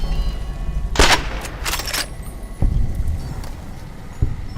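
Gunfire rings out in Fallout New Vegas: The Lonesome Road, a few sharp, loud shots spaced apart over steady background ambience.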